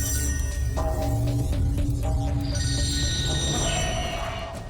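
A telephone rings with steady electronic tones over a dense, noisy background that rises and shifts, no voices heard.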